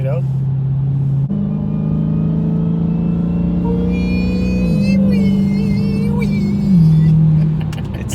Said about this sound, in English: They all have superchargers, but they don't sound like this.